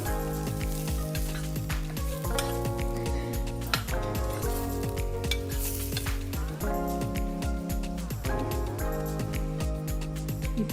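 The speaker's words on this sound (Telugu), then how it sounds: "ఇలా సాస్ చిక్కబడిన తర్వాత ఇందులో మనం ఫ్రై చేసి పెట్టుకున్న ఎగ్స్ని వేసుకోవాలి. ఈ సాస్ అంతా వీటికి బాగా పట్టేలాగా కలుపుకోవాలి." Fried eggs being stirred into a thickened sauce for egg manchurian, a steady loud sizzle in the pan with repeated scraping and stirring strokes throughout.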